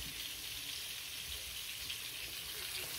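Flour-dredged fish frying in a pan gives a steady, quiet, hissing sizzle that continues evenly without pause, with no talk over it.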